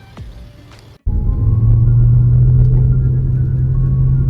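A car's engine fires after a brief pause and settles into a steady, close rumbling idle, the car riding on newly installed RS Japan suspension springs before a test drive.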